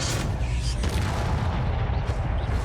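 The Incendio fire spell is cast in Hogwarts Legacy, a loud, dense, rumbling burst of whooshing flame and booming impacts that carries on through the whole moment with no pause.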